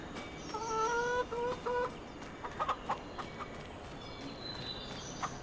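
Chickens clucking on a farm in Farm Sim 25, several short bursts of clucks and a drawn-out call over a low steady background hum.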